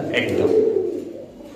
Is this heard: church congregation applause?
no